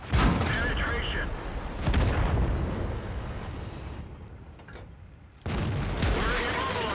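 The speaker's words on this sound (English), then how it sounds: "And here comes the artillery again." Artillery shells strike around a tank in World of Tanks, loud booming impacts near the start, around two seconds and again near the end, each followed by a rumbling decay, with a voice talking over parts of it.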